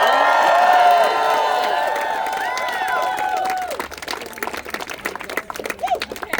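A crowd at a student encampment rally cheers and whoops with high shouted voices up front, then the cheering gives way to scattered, uneven clapping that fades as it continues.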